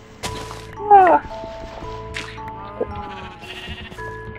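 A single sheep bleat from Minecraft rises clearly about a second in, set against quiet in-game ambience with a few soft thuds and faint tones.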